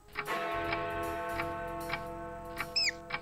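A clock ticks in the point-and-click adventure game Lucy Dreaming, a broken clock that only chimes at one o'clock, giving a steady, evenly spaced tick over a soft sustained musical drone, with a brief squeaky chirp near the end.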